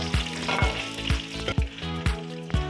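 Chicken pieces frying in hot oil in a pan for qorma, a steady close sizzle and crackle with repeated low thumps as the pieces are turned and stirred, no voices.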